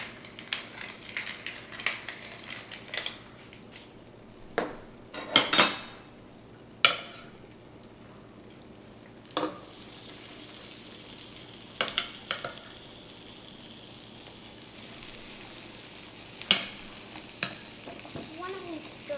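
Mushroom risotto sizzles in a pan while a spoon stirs it, with a steady close frying hiss under irregular scrapes and clacks against the pan, a few louder knocks near the start.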